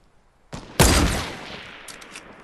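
Gunfire from a Fortnite gunfight, a sharp close blast followed by a burst of rapid shots that ring out and decay, with a few faint pops trailing after.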